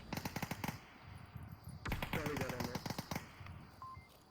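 Rapid bursts of automatic gunfire from a competitive match of the VR shooter Onward, with loud repeated shots in clusters and a dense stretch in the middle, mixed with voices talking underneath.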